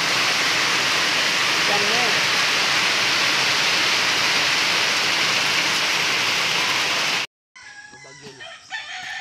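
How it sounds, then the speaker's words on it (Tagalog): A heavy downpour pounds a garden as a loud, dense, unbroken roar for about seven seconds, then cuts off abruptly, leaving quieter scattered sounds. "Sobrang lakas ng ulan."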